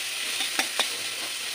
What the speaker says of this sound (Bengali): এগুলো একটু ওই ভাজা ভাজা করে নেবো চাপা দিয়ে।